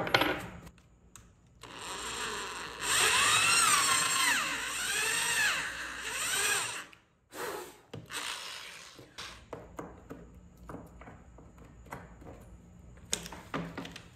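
Power drill boring a large hole into a wooden base, a rising whine of a few seconds near the start, followed by scattered clatter and knocks as the tool and piece are handled.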